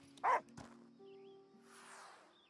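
A puppy in the game Last Day of June gives a single sharp bark followed by a softer yip and faint whimpering, close and clear over a quiet musical backdrop.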